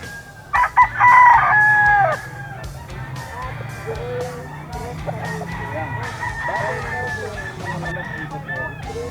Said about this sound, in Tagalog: Yan mga idol yung manok ni Boss Eric dito sa grotto.